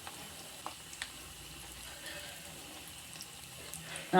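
Taro root (cheppankizhangu) pieces fry in oil for a crispy taro 65, giving a faint, even hiss with a few soft knocks and no talking.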